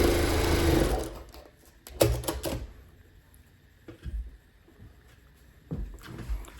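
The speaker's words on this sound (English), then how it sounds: "So I decided instead of tying that, I would just give it a stitch." Short bursts of sewing machine stitching on a reversible Christmas tree gift bag: a loud opening run, then two or three brief stitching spurts separated by quiet pauses, close and clear with no talk.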